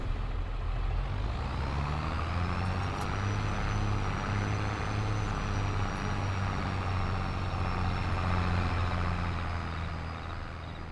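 A tractor engine pulls a loaded hay trailer uphill with a deep, strained drone. The engine rumbles continuously and loudly at steady revs for the whole stretch, with no talk over it.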